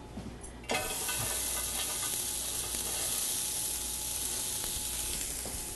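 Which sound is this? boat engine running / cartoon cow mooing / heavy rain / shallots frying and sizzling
shallots frying and sizzling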